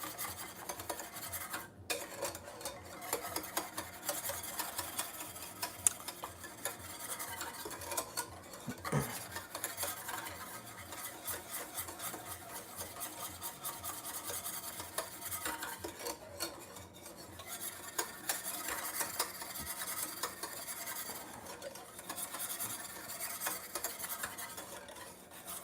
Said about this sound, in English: So now we're going to switch to whisk. And whisk well.